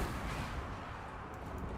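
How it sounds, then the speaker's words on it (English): Great Cannon artillery fire in a Total War battle, a dense rolling rumble of booms and impacts with no voices. "Cannon still firing."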